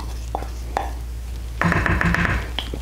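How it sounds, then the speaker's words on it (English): Macaroni and cheese gets stirred in a bowl, a few soft taps at first, then a steady run of scraping, clinking and sticky squelching up close. "now I'm just gonna mix that in"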